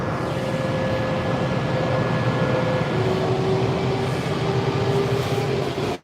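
A Kawasaki-built 7000 series Silver Line metro train rolls along steadily from inside its last car, a continuous loud rumble with faint tonal whines that shift pitch partway through before the sound cuts off.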